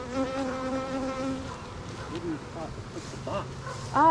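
Honey bees buzz in a steady hum around a hive while people talk nearby and handle the frames, with a brief louder burst near the end.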